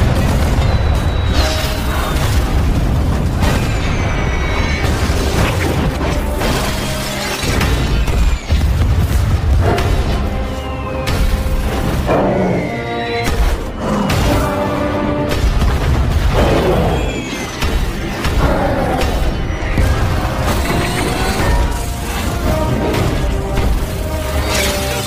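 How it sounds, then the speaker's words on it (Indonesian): Cannon fire and explosions hit a house in a Kung Fu Panda film battle scene: repeated booms, crashes and bursts over dense, continuous action sound for the whole stretch. "Para prajurit yang melihat tanda itu pun langsung menembaki rumah tersebut dengan meriam."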